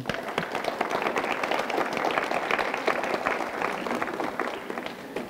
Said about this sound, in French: On peut les applaudir même.